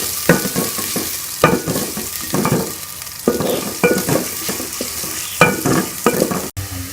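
Onions fry in hot ghee until light brown, with a continuous crackling sizzle broken by repeated scraping stirs of a spoon in the pan, loud and close, with no talk.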